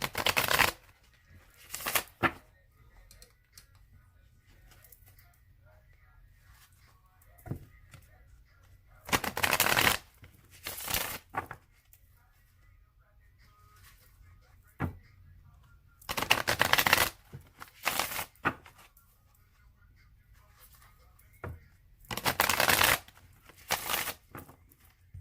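A deck of tarot cards being shuffled by hand in several separate bursts of crisp riffling and flapping, close and fairly quiet, with short pauses of near-silence between them and no talk.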